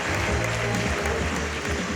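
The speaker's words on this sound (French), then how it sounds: "un tonnerre d'applaudissements pour le commandant Raffaello Pontecorvo" Passengers aboard a luxury cruise ship give a short burst of dense applause for the captain, with a low tonal hum running underneath.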